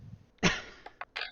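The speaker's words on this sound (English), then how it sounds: "I'm the one actually coughing right now" A single harsh, close cough bursts out, followed by a couple of short, quieter throat-clearing coughs in quick succession.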